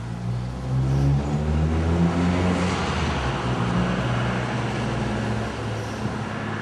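Car engines idling and revving in a crowded Asda supermarket car park in a town centre, a steady low engine drone that swells and holds at moderate distance, with no talk.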